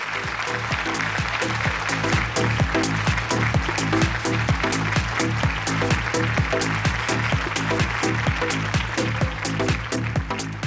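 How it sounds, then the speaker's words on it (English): At a business awards ceremony honouring powerful women in Indian business, the audience applauds Preetha Reddy, Managing Director of Apollo Hospital. Steady, sustained clapping fills the hall over a rhythmic musical backing throughout. "Can we please have a big round of applause for Ms. Preetha Reddy"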